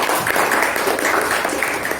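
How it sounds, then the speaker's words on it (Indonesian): Classroom applause for fellow students, a dense steady patter of many hands clapping together, close and fairly loud, lasting a couple of seconds. "Mari kita beri tepuk tangan buat kawan-kawan kita."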